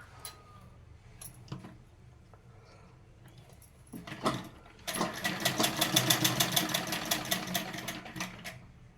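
A sewing machine stitching frills of net cloth: scattered handling knocks at first, then a loud, fast, rhythmic run of stitching for about four seconds close by.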